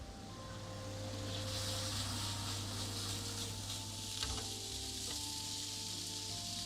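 Tortellini browning in a pan fizzes with a steady, close sizzle that runs unbroken, with faint clinks of stirring now and then.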